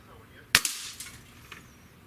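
A breakbarrel air rifle's trigger releases with a single sharp metallic snap, followed by a couple of faint clicks in a quiet room while it is tested with a trigger pull gauge.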